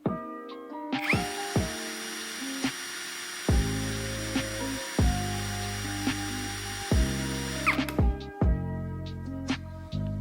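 A Browynn 1380 cordless impact drill spins at speed 2 with turbo engaged, a loud steady high whine that holds for about seven seconds, framed by short whirring bursts and clicks before and after.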